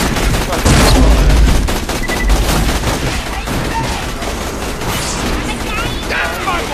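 Rapid, loud gunfire in Borderlands: The Pre-Sequel, dense bursts of shots and impacts layered over one another without pause, with voices shouting underneath.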